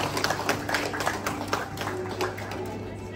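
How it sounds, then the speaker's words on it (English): Scattered clapping from an audience at an awards banquet, a brisk patter of hand claps that stays fairly faint and thin throughout. "Give them a round of applause."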